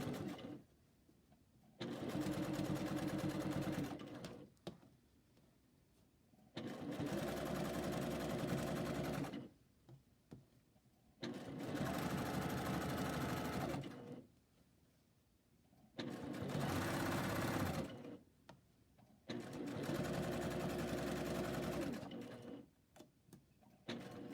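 Sewing machine top stitching a curved seam, running in four separate bursts of rapid, steady whirring, each lasting a few seconds with quiet pauses between.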